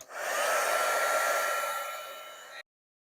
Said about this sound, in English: So I'm going to heat emboss this before I mess it up.